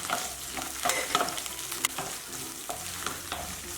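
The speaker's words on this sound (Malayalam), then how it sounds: "ഇതേ പാനിലേക്ക് തന്നെ നമ്മൾ ഈ ചതച്ച് വെച്ചിരിക്കുന്ന വെളുത്തുള്ളി ഇട്ട് കൊടുക്കാം." Crushed garlic sizzles in a frying pan, a steady close crackle with brief stirring scrapes and clinks over it, no voices.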